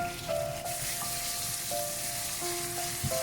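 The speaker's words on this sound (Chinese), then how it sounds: "先把鸡肉炒一下" Chicken stir-frying in hot oil with onion in a wok, a steady broadband sizzle throughout with faint tonal hum from background music underneath, no talk.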